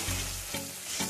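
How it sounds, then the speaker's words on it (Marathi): Spices in hot oil for a tempering over a wood-fired stove give a dense, close sizzle that pulses in loudness a few times over the short stretch, with no voices. "आता आपण फोडणीला सुरुवात करूया"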